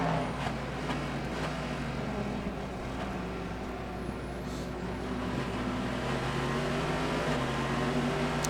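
A Corvette GT race car engine growls steadily throughout, a low rumbling drone with shifting harmonics at moderate distance, with no speech.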